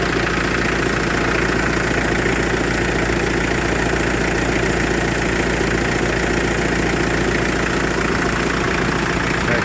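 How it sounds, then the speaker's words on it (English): A Mitsubishi Pajero Sport, a Philippine surplus unit converted to left-hand drive, idles with a steady, loud engine drone and an even low rumble that never lets up, with no voices. "I think this just kind of shows you the engine."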